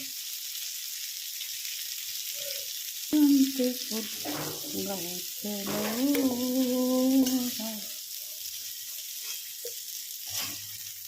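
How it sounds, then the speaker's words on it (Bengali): Cauliflower florets frying in hot oil at home, a steady sizzle running under the whole stretch, with a voice speaking over it in the middle and occasional stirring. "দেখো ফুলকপিগুলো একদম লাল লাল করে ভাজা হয়ে গেছে"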